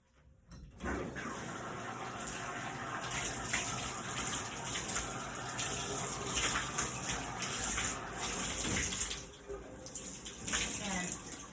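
Running tap water splashing onto a microfiber scrub cloth in a bathroom, a steady broadband gush that holds throughout with slight surges and dips as the cloth moves under the stream.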